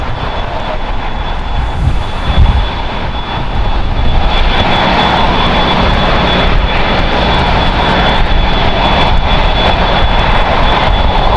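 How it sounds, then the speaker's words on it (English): A Korean Air Airbus A380 taxiing at LAX, its jet engines giving a steady, loud, close roar with a broad hum that holds throughout, no talk over it. "The Korean A380 taxiing just in front of us here."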